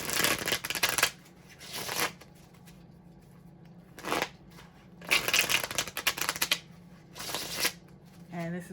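Tarot cards being drawn and shuffled from a deck, several separate bursts of crisp papery riffling and sliding, each lasting about a second, with quiet gaps between them.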